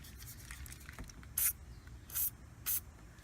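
Aerosol lubricant sprayed onto the hood latch joint of a 2001 Ford Taurus: three short, sharp hissing bursts, close and distinct, over a faint room background.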